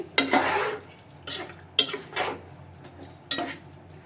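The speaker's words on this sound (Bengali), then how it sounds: "যেহেতু তেলটা গরম, এই জন্য আমি একটু খুন্তি দিয়ে মিক্স করে নিচ্ছি।" A metal spatula scrapes and stirs chicken kacchi in hot oil in a pot, giving three separate bursts of scraping and sizzle with quiet gaps between them, close by and moderately loud.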